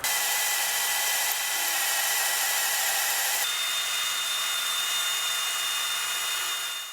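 A drill bores dowel holes through a chromoly flywheel into a Ford Falcon crankshaft, giving a loud, sustained, steady grinding whine that runs unbroken for the whole stretch with no talking.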